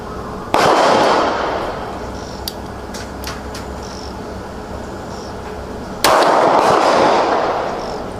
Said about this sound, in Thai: ทำการยิงจำนวนสองนัดเพื่อดูความเร็วนะครับ เริ่มยิงนะครับ